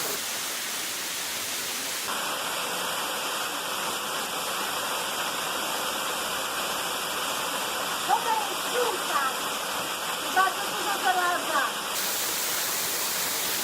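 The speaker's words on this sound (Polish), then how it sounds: "dotarliśmy na miejsce, jest piękny wodospad." Middle Black Clough waterfall near Glossop, England, roars in a steady, dense rush of broadband noise, loud and continuous, with faint birdsong chirping in the background.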